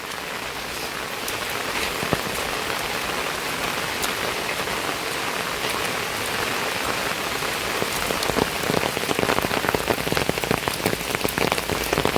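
Heavy monsoon rain pours steadily on surfaces near the Rawalnath temple, a dense hiss with scattered louder drips and patters, growing slightly more intense toward the end.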